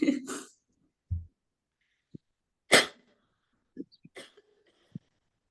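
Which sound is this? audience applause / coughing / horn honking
coughing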